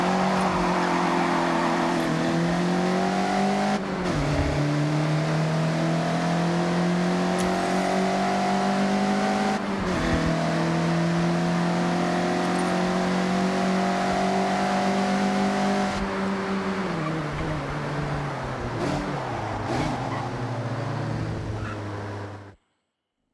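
A Mazda MX-5 engine in the racing game Forza Horizon 6, revving in long rising pulls with sharp dips at gear changes, loud and continuous for over twenty seconds before cutting off abruptly.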